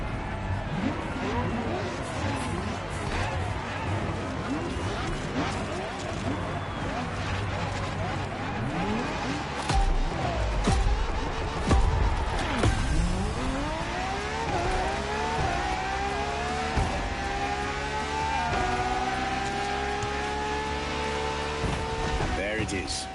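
Ferrari LaFerrari engine in The Crew Motorfest, a sustained loud revving drone with rising and falling harmonic sweeps as the car accelerates and shifts, a pass around the middle, with a voice talking over it.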